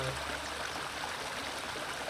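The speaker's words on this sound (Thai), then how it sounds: "ฟังเสียงน้ำไหลมาตอนเช้า" Stream water flowing steadily beside a farm vegetable plot in the morning, a soft, continuous rushing with no voices.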